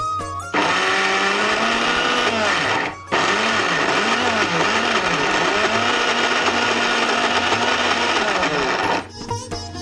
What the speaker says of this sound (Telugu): నేను వెళ్ళి మిక్సీ పట్టుకుని వచ్చేస్తాను.